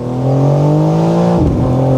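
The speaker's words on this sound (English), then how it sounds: "you can also hear the straight 6. It's not just about pops and bangs. Also that 530 horsepower S58 engine is very nice to hear" A 530-horsepower BMW M4 Competition with the S58 straight-six runs at full throttle, a loud, steady rising engine howl that dips briefly as it shifts and then pulls again, heard close and without talk.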